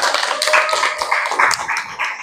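A class of students claps together in a classroom, a steady, dense patter of applause lasting a couple of seconds with no talking.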